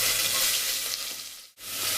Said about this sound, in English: And once the spices are lightly heated, I'm adding in the sliced onion,